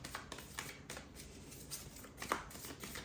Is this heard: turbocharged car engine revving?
no